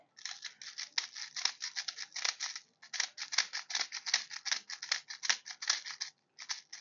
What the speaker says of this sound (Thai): ก็คือใส่ตรงตรงๆไปตรงนี้ได้เลยเนี่ยลูกมันก็จะกรอกลงแบบนี้